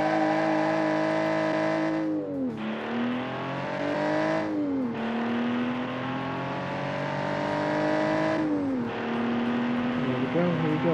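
A Porsche 911 Carrera replica accelerating around the Road Atlanta circuit in BeamNG.Drive, its engine note climbing steadily, dropping sharply at each upshift, then climbing again, loud and continuous.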